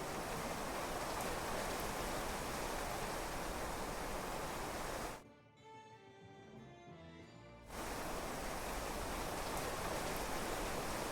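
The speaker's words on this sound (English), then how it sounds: "Raining very heavily, and we still have no branches." Heavy rain in the video game Clanfolk pours as a dense, steady hiss, cutting out for about two seconds midway to a quieter tonal interior sound before the downpour resumes at full strength.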